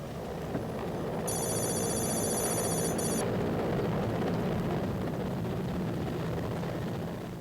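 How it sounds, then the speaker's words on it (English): A helicopter drones steadily in flight over Afghanistan, a constant low rotor and engine rumble with no voices, while a brief high electronic beeping rises over it early on. "Taliban MiGs tried to shoot this chopper down."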